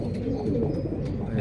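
Racing pigeons cooing in a loft during a first club training session in Pagsanjan, Laguna, a low, soft, continuous murmuring coo close by, with brief faint chirps mixed in.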